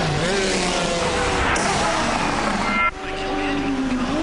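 GT race cars at speed on the Silverstone circuit in the 2002 FIA GT championship, a dense continuous engine roar with shifting pitch as cars pass, with a commentator's voice running over it.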